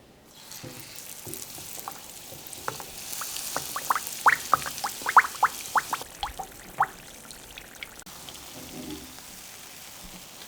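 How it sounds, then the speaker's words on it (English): Keto bread batter fries in a pan with a soft, steady sizzle, dotted with sharp pops and crackles that cluster in the middle and then thin out. "I'm going to build it up about halfway, and then I'm just going to cook it and let it cook"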